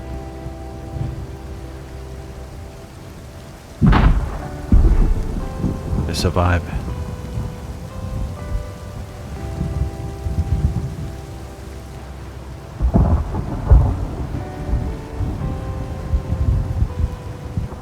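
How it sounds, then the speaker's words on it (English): Rust video game thunderstorm: steady rain hiss with low rumbling thunder, louder cracks around four and six seconds and another roll near thirteen seconds, with brief talk over the storm. "Thunder."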